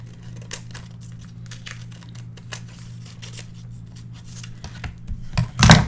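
Scissors snipping off leftover craft paper scraps while assembling a Stamperia horse-themed mini album: a string of short, crisp cuts and light paper rustles over a steady low hum, with a louder handling burst at the end.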